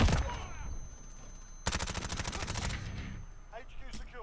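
Video game shooter gunfire crackles in rapid automatic bursts, a sustained volley in the middle and short sharp shots around it, fairly quiet overall.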